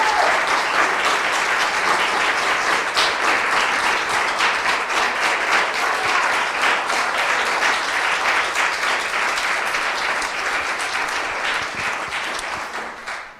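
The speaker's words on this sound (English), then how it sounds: "big round of applause" A large summit audience applauds a guest speaker, a full, loud wash of clapping that holds steady for over ten seconds before tapering off.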